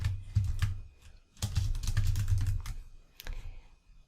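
Keys clatter on a computer keyboard as code is typed, quick bursts of close, crisp clicks separated by short pauses.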